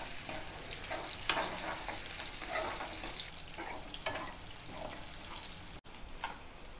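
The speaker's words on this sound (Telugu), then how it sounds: "ఇప్పుడు ఉల్లిగడ్డలు మంచిగా ఫ్రై కావాలి." Onions fry in a pot as the base for chicken curry, a continuous close sizzle broken by occasional stirring scrapes and clinks, with no voices.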